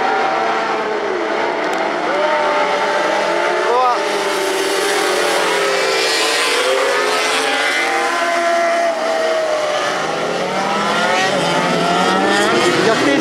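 Several motorcycles rev and accelerate together at the restart of a mock street race, a loud, dense engine roar with rising and falling pitch sweeps, while people talk over it.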